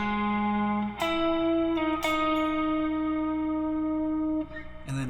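An electric guitar plays a lead line from a song, with a few clean sustained notes ringing out one after another, each picked note held and decaying, and no voice over it.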